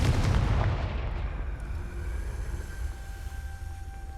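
A Confringo fire spell from Hogwarts Legacy erupts in a loud, booming blast at the start, then dies into a long rumbling tail with a faint ringing tone.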